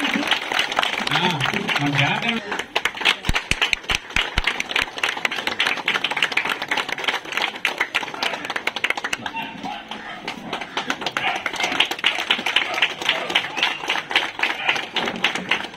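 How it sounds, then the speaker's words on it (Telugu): Applause rises at a community celebration for elderly people honouring the village sarpanch, a steady patter of many hands clapping throughout, mixed with someone talking over a loudspeaker. "గట్టిగా చప్పట్లు కొట్టండి కదా"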